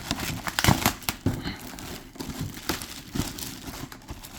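A plastic bag around a boxed figure is tugged and pried open, giving loud, continuous crinkling with bursts of tearing and crackling.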